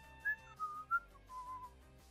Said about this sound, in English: What are you whistling about